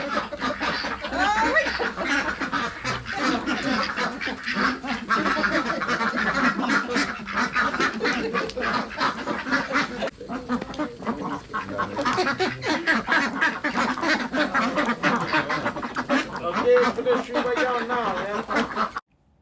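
A large crowd of ducks quacks and honks continuously at the Duck Stop duck farm in the Phong Nha region of Vietnam, a loud, dense chorus of overlapping calls close by throughout.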